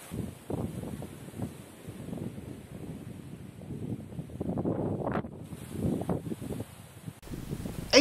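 Wind blows across the microphone by a wind-driven water pump, a rough gusting rumble that swells and fades with faint rustling and occasional mechanical creaks.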